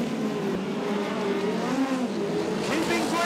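Midget speedcars race at Archerfield Speedway, engines whining and revving as they pass nose to tail, with excited commentary over the top.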